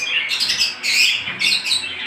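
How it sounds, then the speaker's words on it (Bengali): Budgerigars and lovebirds squawk and chirp together in a pet bird shop, a dense, shrill chatter from several birds close by. "এখানে কিছু এ গ্রেড ইংলিশ বাজরিগার আছে, যেগুলা বিগ সাইজের এবং এক্সিবিশন"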